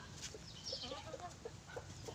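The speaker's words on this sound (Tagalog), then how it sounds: "ipakita ko muna sa inyo ng malapitan ang aking mga alagang manok" Backyard chickens kept for eggs cluck in a steady string of short, soft calls, close by and alone over a faint background hum.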